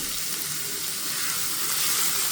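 Chopped onion frying in a pan for Pakistani mash daal, giving a steady, even sizzle with no talk over it.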